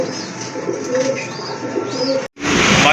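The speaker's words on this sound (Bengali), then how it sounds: "আরেক জোড়া গড়া কবুতর আছে, খুবই চমৎকার, অনেক বড় সাইজের কবুতর" Several large chocolate-coloured pigeons coo close by in a loft, soft repeated throaty coos over a constant background hum, cut by a brief gap near the end.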